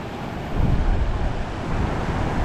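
Rough ocean surf at South Point, Hawaii, a broad roar of crashing waves that swells louder after a moment and rumbles on, mixed with wind buffeting the microphone.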